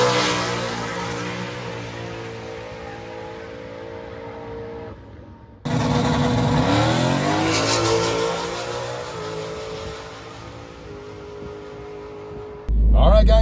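A Dodge Demon 170 at a drag strip, held on the trans brake, its engine droning loud and close, then jumping to a harder rev that climbs before easing off.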